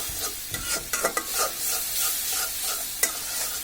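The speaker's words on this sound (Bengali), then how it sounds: "ভালোভাবে মশলাটাকে আমরা কষিয়ে নিচ্ছি" Spice masala for a pangas fish curry sizzles in a pan while a spatula stirs and scrapes it, giving irregular close scraping strokes and knocks over a steady frying hiss.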